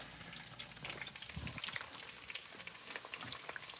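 Ingredients for chili crisp fry in hot oil, a quiet, steady crackling sizzle with dense fine pops and spits throughout, close up and alone.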